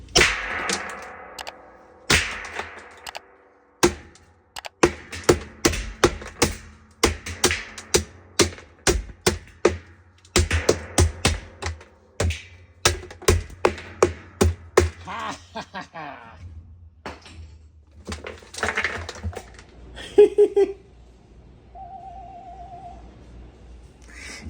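A hammer pounding the drum of a Whirlpool washer off its gearcase: dozens of sharp, loud metallic whacks in uneven bursts, close by, easing into scattered knocks and clanks before a brief tonal beep near the end.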